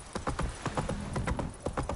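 Hooves of the horse Roach gallop in a quick clip-clop rhythm across the ground in the Witcher 3 video game, fairly close and steady, with a brief whinny-like touch.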